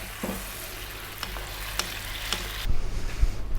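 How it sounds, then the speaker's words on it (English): Fish curry simmering in a pan, a steady bubbling sizzle with a few light clicks, then gentle stirring and scraping near the end, no voices. "we're going to let this go for another 5 minutes, giving it a little gentle stir every now and then"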